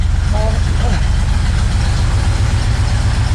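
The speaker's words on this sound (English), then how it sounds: "Actually, idle's pretty good." A 1961 Pontiac Laurentian engine idles close by with a steady, even low rumble that fills the whole stretch and never changes.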